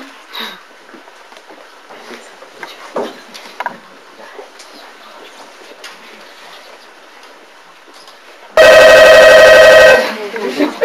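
Telephone ringing in a doctor's office scene on a café-theatre stage, a single loud electronic ring of about one and a half seconds near the end, after a stretch of quiet room noise and faint movement.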